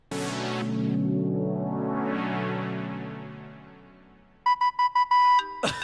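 A mobile phone ringtone in a Hindi TV serial scene, starting with sustained swelling synth tones, then a bright repeating electronic chime pattern in short loud pulses near the end.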